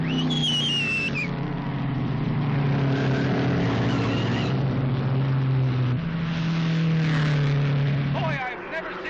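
Racing cars in an old O'Connor racing film sweep into a turn, a loud sustained engine drone with shifting pitch that holds steady and then drops away near the end.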